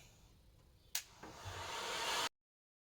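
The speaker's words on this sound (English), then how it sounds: "I've got a screwdriver and I've got a heat gun." A heat gun clicks on and rises into a steady, loud whooshing blow of hot air close by, then cuts off abruptly.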